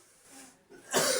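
A teacher in a trigonometry class gives one short, fairly quiet cough after a moment of soft breathing.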